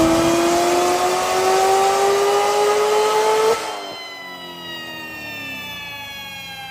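A modified 2019 Chevrolet Corvette C7 Z06 with a 730 hp V8, basic bolt-ons and a seven-speed manual roars loudly under hard acceleration, its engine note climbing steadily before dropping sharply at a shift and settling into a lower, quieter drone.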